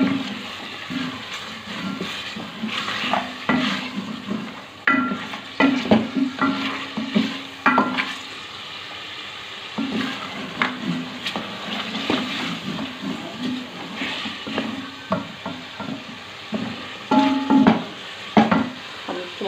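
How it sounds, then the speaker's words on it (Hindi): Mutton and turnip being fried in a pot, a steady close sizzle with frequent stirring scrapes and clatters of a utensil against the pot, no voices present. "अब हम इसको भूनेंगे।"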